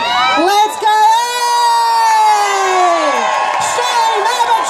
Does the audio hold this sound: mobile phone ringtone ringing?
no